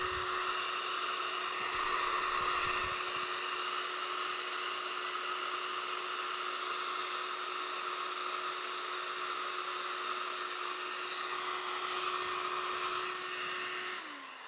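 A hair dryer blows steadily on a watercolour landscape painting to dry it, a loud continuous whirring hum with a fixed motor whine that runs unbroken for the whole stretch and cuts off at the end.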